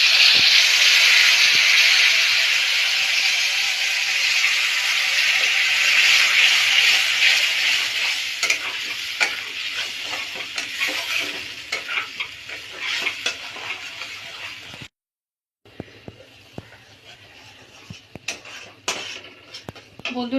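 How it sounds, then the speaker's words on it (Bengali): Ground spice paste hits hot oil with a black cumin and bay leaf tempering for a pabda fish curry with potato and eggplant. A loud, steady sizzle slowly settles, with stirring scrapes. A brief pause near the end gives way to a quieter sizzle. "এবার আমি বেটে রাখা মশলাটা দিয়ে দিচ্ছি"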